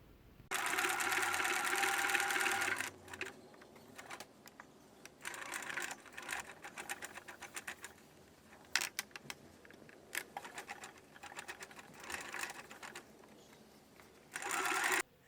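A sewing machine stitches a fabric corner with a stretch stitch, whirring steadily at the start, then running in short, uneven bursts and single stitches near the point, before a final steady run.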